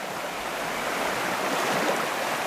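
Small trout stream rushing and burbling over rocks, a close, steady broadband water noise that stays even and full for the whole stretch with no voices.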